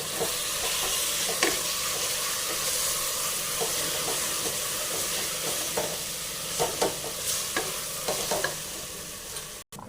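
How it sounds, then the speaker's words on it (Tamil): Chicken masala for biryani frying in a pan, a loud, continuous sizzle with repeated scraping strokes as it is stirred, close up, with no talking. "ஸ்மெல் வர வரைக்கும் கலரி விட்டால் போதும்"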